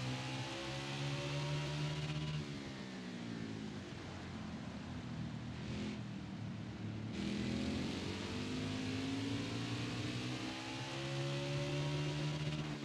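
A modded NASCAR Cup Series car engine in the video game NASCAR Heat 5 drones continuously at high revs, pitch dipping and climbing through shifts, with a synthetic, game-like tone and no voices.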